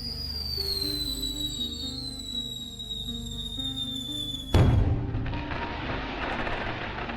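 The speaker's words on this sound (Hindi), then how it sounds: "ऐसे ही ये लोग सारे पटाखे फोड़ने लगते हैं।" Cartoon firecrackers: a long descending whistling squeal, then a sudden loud bang followed by a crackling, hissing burst that fades slowly.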